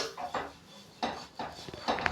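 A ladle scrapes and clinks against a pan while spreading dosa batter, a few short separate scraping strokes with brief gaps, close and moderately quiet.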